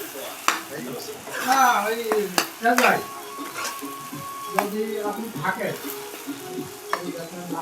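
Egg bhujia with tomato and onion frying in a pan, heard as an irregular sizzle with spatula scrapes and taps against the pan, under intermittent nearby talk.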